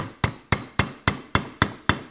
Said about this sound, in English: we're going to give it a little bit of love with some hammer action